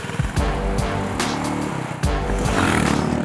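A Royal Enfield Meteor motorcycle engine thumps with a loud, deep, steady pulse, its low throb swelling briefly and settling again, close up and with no speech over it.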